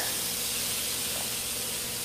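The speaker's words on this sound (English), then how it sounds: "Let me add the chicken tenderloins to the grill, and you guys will hear this sizzling here." Chicken tenderloins sizzle on a hot grill, a steady close hiss and crackle of frying meat that holds evenly throughout with no voices.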